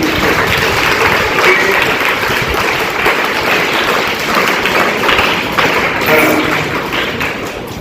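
A crowd of schoolchildren and guests claps at a school farewell ceremony, a dense, loud, continuous patter of applause sustained throughout.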